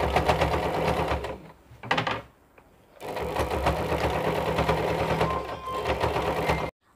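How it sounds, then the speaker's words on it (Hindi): A sewing machine runs a double line of stitching on a nightie, making a rapid mechanical chatter in close bursts broken by two short pauses. "अब इस पर हम डबल सिलाई करके"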